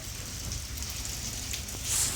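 Rain falling on a mud pond used for koi fry, a steady fine hiss of drops with occasional louder patters, close and continuous with no voices.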